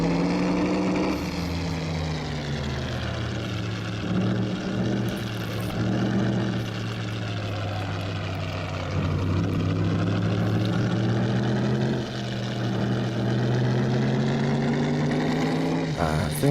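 A car engine in the VR racing game Assetto Corsa drones loudly and continuously, its pitch rising and falling with throttle, with a faint voice speaking underneath.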